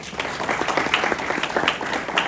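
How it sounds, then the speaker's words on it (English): Steady, loud applause from an audience at a university ideathon event, continuous dense clapping throughout before cutting off abruptly. "big round of applause for James, everyone."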